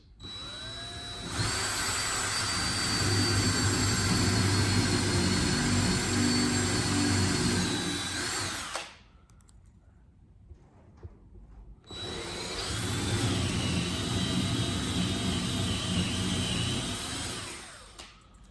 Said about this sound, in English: we're drilling some pilot holes now before we put the lag bolts in